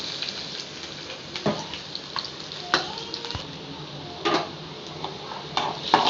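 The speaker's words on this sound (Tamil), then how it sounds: "நல்லா ஃப்ரை ஆகட்டும் எண்ணெயில்." Finely chopped ginger and garlic fry in hot oil, giving a steady sizzle broken by sharp clicks and scrapes of stirring against the pan.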